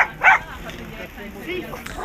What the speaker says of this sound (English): It's like dogs on roofs fighting with each other.